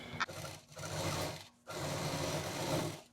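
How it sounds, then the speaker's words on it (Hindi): A sewing machine stitches fabric onto a rice bag in two close, steady runs of rapid mechanical chatter, separated by a brief pause, with no talking. "राइस बैग को पकड़ेंगे और उसके बाद सिल देंगे।"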